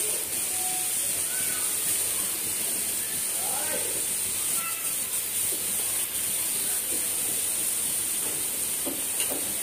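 Milk and sugar frying in ghee in a pan give a steady, close sizzling hiss that runs throughout, with some faint voices in the background.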